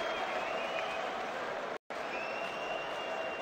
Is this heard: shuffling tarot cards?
no